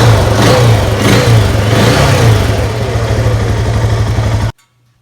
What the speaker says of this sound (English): that's how it's supposed to sit here and idle